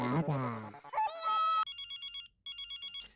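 An electronic phone ringtone trills in short repeating bursts, preceded by a brief stretch of a voice and a musical jingle, fairly close and clear.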